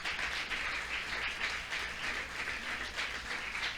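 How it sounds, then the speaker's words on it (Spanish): A church congregation applauds in a steady, dense wash of clapping that holds evenly throughout, fairly loud and without pauses. "denle un aplauso al Señor."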